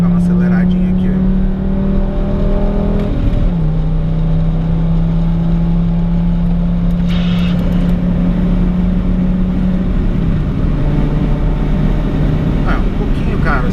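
A Fiat Marea five-cylinder engine drones loudly from inside the cabin, its pitch rising and settling as it revs, while someone talks over it.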